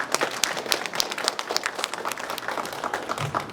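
A modest audience applauds the Fresno Center team at a community gathering in Fresno, California, with distinct individual claps close by, a short brisk burst of uneven clapping from a smallish crowd.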